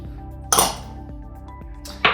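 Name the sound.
stirring mulled wine in a pan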